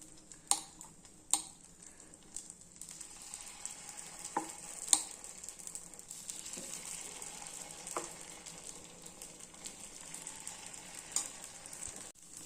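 Paniyaram batter made with mappillai samba rice and millet cooking in a pan, a faint soft sizzle with a few sharp ticks and clicks scattered through it.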